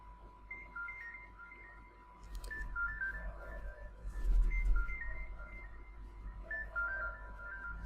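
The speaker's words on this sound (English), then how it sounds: "It actually did ring my phone" A phone rings with a repeating electronic ringtone melody, moderately loud, over a low steady hum and some background rumble.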